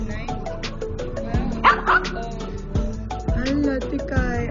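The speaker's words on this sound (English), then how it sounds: "Lala, you're barking in here" Small pet dogs in a home, several of them, bark and yip in short sharp bursts, fairly close, while someone talks over them.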